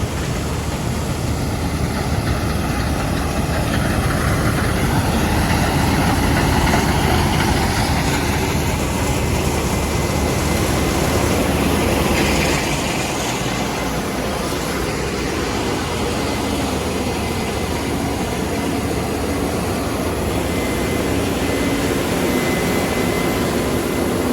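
Farm machinery engine drones loudly and steadily while grain is emptied into a trailer in dry, mild weather, a continuous close rumble and whine with no talk over it.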